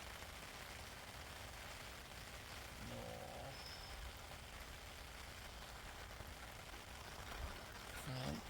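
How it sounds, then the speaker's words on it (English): Rain falling steadily beside the River Severn on a fishing trip, a constant broadband patter that fills the clip, with faint brief knocks and handling noises near the end. "As you can see, the rain's coming down."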